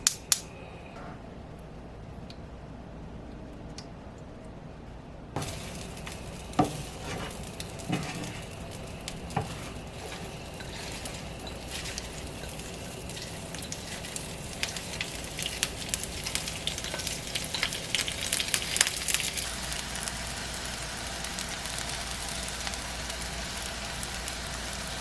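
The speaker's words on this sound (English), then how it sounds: "I heat up a tablespoon of olive oil." A tablespoon of olive oil heats in a pan, building from quiet to a steady crackling sizzle with scattered pops that grow denser over time.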